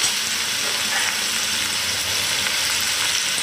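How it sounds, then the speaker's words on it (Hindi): Tomatoes seasoned with salt and turmeric fry in a pan, giving a steady, close, dense sizzle that holds evenly throughout, with no talking. "अब इस सबको भूंज लेंगे"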